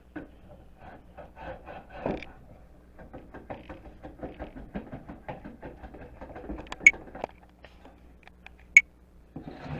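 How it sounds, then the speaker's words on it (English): A hand plane smooths a piece of wenge hardwood in a run of quiet, scraping strokes, each a short rasping burst, with two sharper clicks near the end. "So I'm going to smooth this as much as I can, and then we'll make the actual saw cut."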